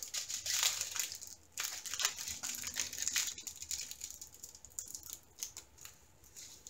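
Diamond painting drill packets from a HAED kit are ripped open by hand, giving a continuous close crinkling and tearing rustle with brief pauses, soft and steady throughout.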